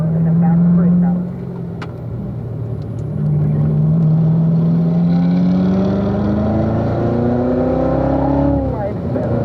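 Corvette on a track at the Ron Fellows Corvette School, engine note dropping on a downshift and then rising steadily as it powers out of a corner, a loud steady drone heard from close by.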